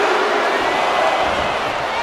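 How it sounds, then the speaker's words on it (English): A wrestling arena crowd at a WWE Survivor Series WarGames cage match roars loudly and continuously, a dense, steady wall of cheering. "the crowd's so loud"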